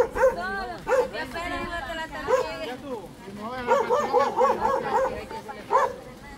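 A small dog yips and barks in quick, high-pitched bursts, close by, with people talking over and between the barks.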